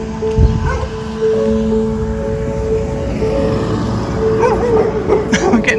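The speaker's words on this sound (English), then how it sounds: "We're getting barked at by all the neighbourhood puppies" Neighbourhood dogs in a Charleville street bark and yip from a short distance, sharp single barks standing out from steady outdoor noise, with a faint voice in the background.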